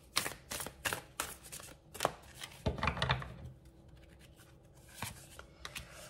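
Tarot cards are shuffled and laid down up close, a quick series of crisp riffling flicks and slaps, quiet and without talking.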